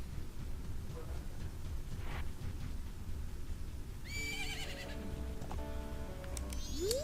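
A horse whinnies in The Legend of Zelda: Majora's Mask, a bright rising neigh that stands out clearly over a steady game background with faint hoof-like clip-clops.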